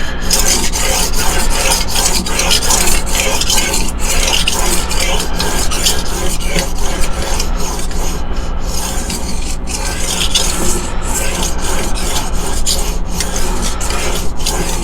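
A knife blade is sharpened on a Hapstone T1 sharpener, a steady, close rasping and rubbing of stone on steel. The strokes repeat continuously throughout, with no voices.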